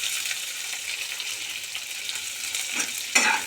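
Chopped onions fry in white oil in a kadai with whole garam masala, bay leaf and a dried chilli, a close, steady hissing sizzle with a brief louder burst near the end.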